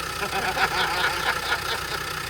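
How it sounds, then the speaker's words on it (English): Land Rover Defender Td5 diesel engine idling, a steady rumbling drone with a faint regular pulse, close and continuous throughout. "Can you hear the engine?"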